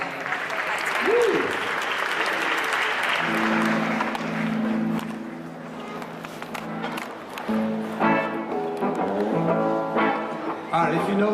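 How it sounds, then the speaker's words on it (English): Sustained audience applause from parents and grandparents at an annual school dinner runs throughout, steady and full, with a cheer and someone talking over it. "give yourselves a round of applause"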